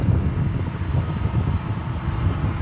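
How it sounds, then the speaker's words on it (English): Polar Air Cargo DHL cargo jet at DFW Airport at night, a loud, steady engine roar with wind buffeting the microphone, close and continuous, with no voices. "It's a regular route for the Polar Air Cargo DHL flights."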